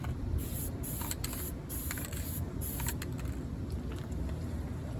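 Spray paint hisses onto wooden lamp table legs in a woodworking shop. It comes as short, close bursts over a steady low background rumble, with no voices.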